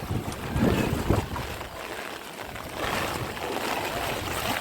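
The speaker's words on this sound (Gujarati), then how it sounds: "મોજા માર્યા જાય છે" A river swollen by extreme monsoon rain surges past in waves, a continuous rushing, churning wash mixed with gusty wind buffeting the microphone, with no talking.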